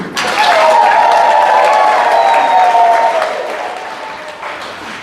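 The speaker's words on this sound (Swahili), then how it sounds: "Pigeni makofi." A crowd at a church gathering claps in warm applause that swells quickly, holds steady and loud for about three seconds, then fades out gradually.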